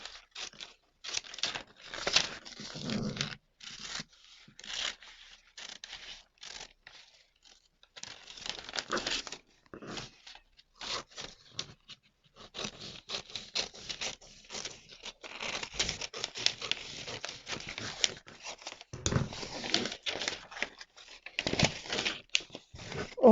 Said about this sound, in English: Look, I'm going to cut.